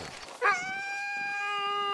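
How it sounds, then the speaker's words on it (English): A sled dog, an Alaskan husky at a musher's training kennel, lets out a single sustained howl that rises sharply and then holds a long, steady, tonal note, close and fairly loud. "Musher Frank Moe has 43 dogs on his property. 28 of them are in training."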